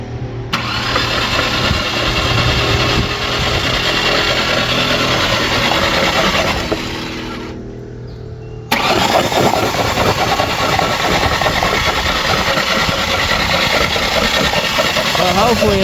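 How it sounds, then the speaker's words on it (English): A flooded Ford Ranger truck engine cranks and catches, running roughly at a loud, close idle, dips briefly as it stumbles, then revs back up and keeps running. "I think we got ourselves a flooded engine."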